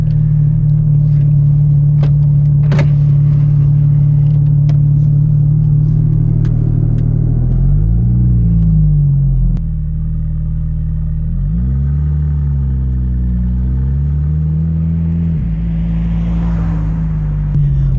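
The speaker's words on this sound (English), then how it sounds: "let's fire up the GT3 RS" A 2019 Porsche 911 GT3 RS idles with a loud, deep, steady rumble close by, then gives several brief revs that swell and settle back to idle, with no talk.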